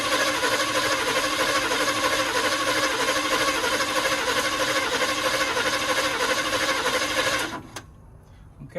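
Engine of a 1962 Chevy pickup cranking continuously without catching, a loud, rapid rhythmic churning that runs for about seven seconds and then stops abruptly into quiet.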